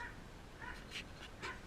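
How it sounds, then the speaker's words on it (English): A dog gives a few short, faint yips and whimpering barks in the background of an outdoor garden with sunflowers and straw bale melons, spaced irregularly over a quiet backdrop. "You can hear my dog Sam barking in the background"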